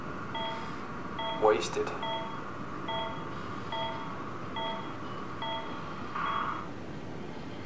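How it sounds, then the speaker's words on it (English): Electronic beeps from the video game Soma, a regular pattern of short multi-tone chirps repeating about every second, with a rising sweep near the start and a voice speaking briefly. "Oh, that was a beeping sound. It sounded like he was dying."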